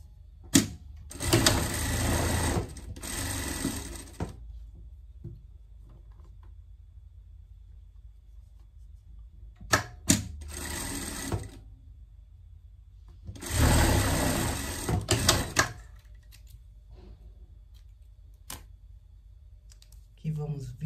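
A sewing machine stitches a seam on a fabric strap in three separate bursts of fast, whirring mechanical chatter, with quiet pauses between them.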